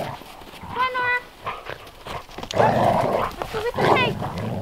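Dogs on a homestead, with yelps and barks close by amid shuffling movement and farmyard noise, while people talk over them.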